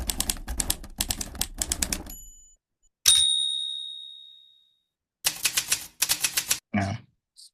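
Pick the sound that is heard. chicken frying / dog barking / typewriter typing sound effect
typewriter typing sound effect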